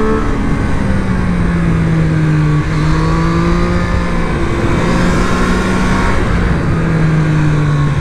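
A 2024 Triumph Street Triple 765RS motorcycle engine drones loud and close under sustained throttle, its pitch rising and falling in long smooth sweeps as it pulls hard on the road with steady wind rush.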